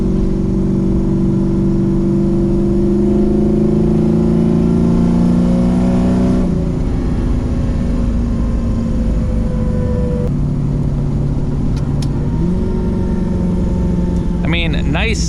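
An LS-swapped car engine hums steadily, then its pitch drops and rises as the transmission downshifts, with a loud in-cabin drone throughout and talking over it.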